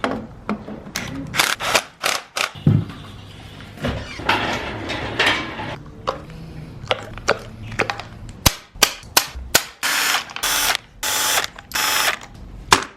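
A power tool bolts a starter onto a Honda B20v engine in a garage, firing off a series of short, sharp, loud rattling bursts separated by brief gaps and clicks.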